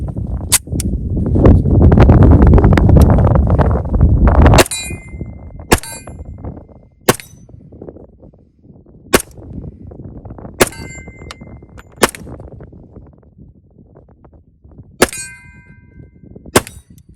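A TISAS Night Stalker 1911 pistol firing 230 grain rounds, with a rapid string of shots at first followed by spaced single sharp cracks with metallic ringing, loud and close.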